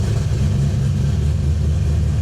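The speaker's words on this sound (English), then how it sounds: "here's a true cold start. This thing is ice cold." Engine fitted with an ACES Killshot fuel system fires on a true cold start and runs, a loud, dense low-pitched rumble close by that stays steady and even across the short stretch, with no voices.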